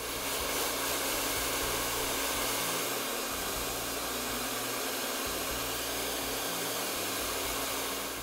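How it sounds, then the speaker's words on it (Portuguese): A hair dryer blows hot air over freshly painted, folded silk for a sarong, a constant, close whooshing hiss with a steady low motor hum and no pauses. "Essa técnica, obrigatoriamente, eu tenho que secar com um secador de cabelos antes de abrir,"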